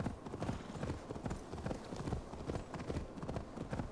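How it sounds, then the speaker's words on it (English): Horse hooves galloping in the video game Assassin's Creed Valhalla, a fast, steady clip-clop rhythm that is loud and close, running continuously with no talk over it. "My horse's stamina's finally going down."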